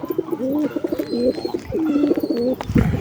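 A pigeon on a rooftop coos in short repeated bursts, close and fairly soft, over quiet background noise with no talk.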